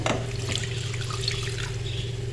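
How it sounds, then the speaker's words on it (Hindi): Water is poured into a pan with salt and oil in preparation for boiling chicken, making a continuous splashing, trickling flow close by over a low steady kitchen hum. "और इसमें डालेंगे पानी।"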